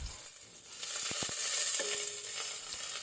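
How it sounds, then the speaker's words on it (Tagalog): Onion and garlic sauté in oil for pork sinigang, a soft, steady sizzle close by, broken by a few sharp utensil taps and stirring clinks. "igigisa ko sa mantika yung sibuyas at bawang."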